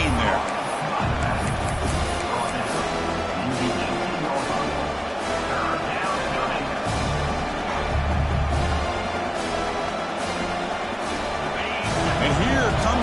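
Football stadium crowd roaring continuously during a red zone defensive stand late in a game, a dense, loud wall of cheering and babble that holds steady throughout.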